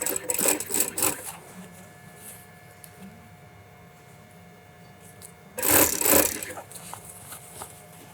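An industrial sewing machine stitches a shirt sleeve in a London bespoke shirtmaking workshop, running in two short, loud, whirring bursts separated by a long, quieter pause.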